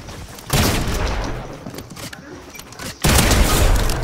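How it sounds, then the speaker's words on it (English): A new shotgun firing in a video game, two loud close blasts, each followed by a rumbling decay of about two seconds. "What the frick was that? It's the new shotgun."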